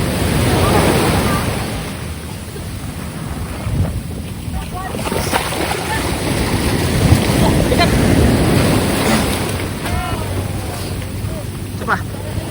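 Ocean waves wash against a boat on the shore at Zambales, heard as a steady surging roar under gusty wind buffeting the microphone, with people talking and calling out over it.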